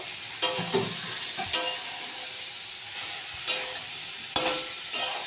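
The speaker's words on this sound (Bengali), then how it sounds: "আমি একটু জল দিয়ে কষাচ্ছি" Potato and poppy seed paste sautéing with a little water in a pan, a low simmering sizzle punctuated by about half a dozen sharp spatula scrapes and taps against the pan.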